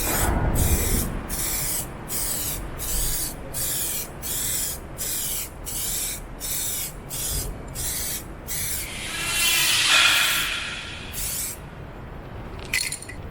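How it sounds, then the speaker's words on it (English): Aerosol spray paint hissing onto a car bumper in a rapid run of short bursts, steady and close, then a longer louder spray and a brief rattle at the end. "I'm going to spray 2 coats of this, okay, onto the bumper"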